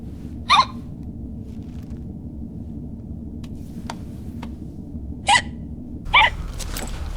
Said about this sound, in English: Sounds almost like hiccups.